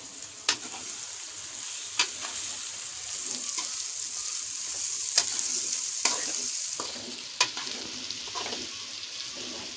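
Vegetables and peas frying for egg fried rice, a loud continuous sizzle with a spatula stirring and scraping through it, sharp clacks every couple of seconds, no voices.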